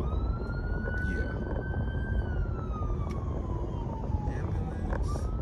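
Ambulance siren wailing as it passes along a road, its tone sliding slowly up and down over steady traffic rumble, fairly loud and continuous.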